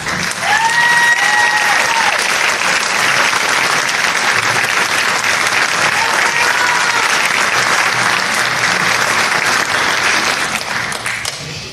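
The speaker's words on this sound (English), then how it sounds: "please stand for a round of applause" A large audience at a high school scholarship awards program gives a long, loud, steady round of applause, with a brief whistle-like tone rising over the clapping early on.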